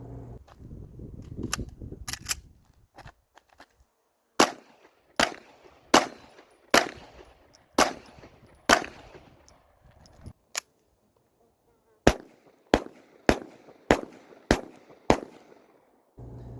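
Single shots from a striker-fired handgun with a grip safety crack out in a steady series, about a dozen sharp reports spaced roughly a second apart, loud and close, with a pause mid-string and no talking.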